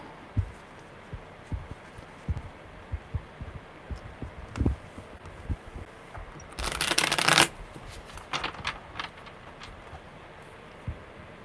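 Tarot cards shuffled by hand, a steady run of soft papery riffles and taps with one louder, denser burst of shuffling partway through, close and otherwise quiet.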